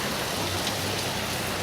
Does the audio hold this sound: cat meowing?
no